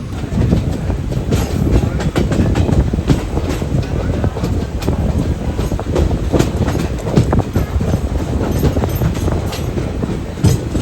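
The Chennai–Mangalore Mail train rolls along the rails with a loud, continuous rumble and rhythmic clickety-clack of wheels over track joints, heard from inside the moving carriage.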